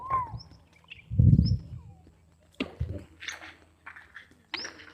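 Birds at Khijadiya Bird Sanctuary, a wetland with water and tide flats, give several short chirps and calls. They come at a middle distance in scattered bursts, along with a low rumble and some rustling.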